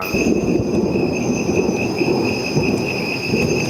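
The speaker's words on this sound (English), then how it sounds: "And then there's like a distant thunder" Distant thunder rumbles low and steady beneath a continuous rain-like hiss and faint high insect tones, a sustained ambient storm bed with no distinct claps, used as a royalty-free sample.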